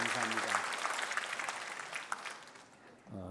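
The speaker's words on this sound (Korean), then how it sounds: "박수로 우리 하나님께 영광을 드립니다." Brisk applause rises from a church congregation, full at first and then thinning and fading. A voice speaks briefly at the start and again at the end.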